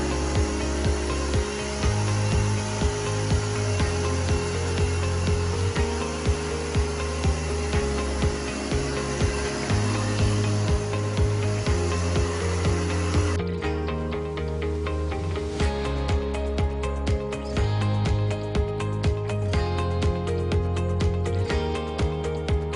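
Air wash fogging equipment runs loudly and continuously, a harsh mechanical roar with steady rhythmic tones that shifts to a brighter, sputtering texture partway through, with no voices over it.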